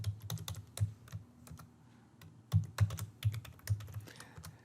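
Fingers type on a computer keyboard in quick, uneven bursts of close, crisp key clicks with short pauses between, writing Python code.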